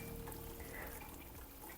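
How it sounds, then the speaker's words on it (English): Water splashes and trickles steadily onto the soil around a newly planted shrub in a garden bed with fresh compost, a continuous soft pouring sound heard up close with no talk. "That should enjoy now a drop of water."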